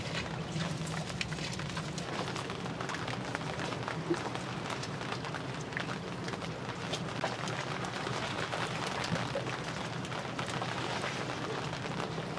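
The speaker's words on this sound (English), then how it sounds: "We really haven't had rain like this in the Pacific." Rain falling on a 40-foot sailboat in the Pacific, a steady dense patter and hiss of drops on the deck that stays even and continuous, with no voices over it.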